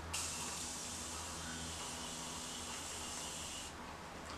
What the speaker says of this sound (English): I am going to spray it with the Morphe Continuous Setting Mist.